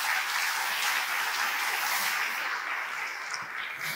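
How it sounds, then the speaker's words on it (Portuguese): Steady applause from a church congregation at a sermon gathering, a dense, even wash of clapping that holds for about four seconds with no one speaking over it. "Vamos dar um aplauso ao nosso Senhor."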